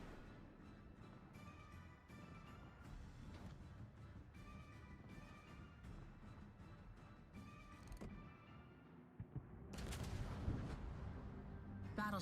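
Distant battleship guns fire in a naval video game, sounding as repeated low booms and rumbling salvos over a dense, continuous game soundscape, with a louder cluster of blasts toward the end.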